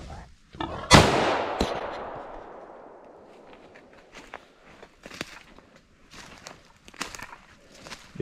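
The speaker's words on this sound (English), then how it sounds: "Finishing shot on him." A single loud finishing gunshot at a deer during a hunt cracks out close by and rings off into a long fading echo, followed by rustling and footsteps.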